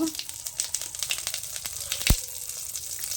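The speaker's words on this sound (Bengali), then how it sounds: "এখন ওই মাছ ভাজার তেলেই একটু জিরা ফোড়ন দিয়ে দিব।" Cumin seeds sizzle in hot oil left from frying fish, a close crackling hiss with a single low thump partway through and faint voices nearby.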